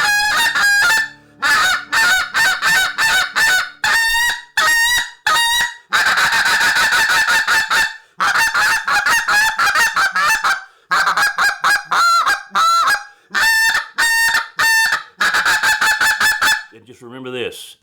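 A cylinder-bore goose call blown to imitate migrating geese, loud and close, with rapid repeated honks and clucks in bursts of varying length separated by short pauses, no voices.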